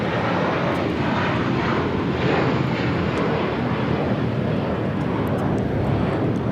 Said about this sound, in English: This is American Airlines 1324 taking off to Dallas Fort Worth on an A321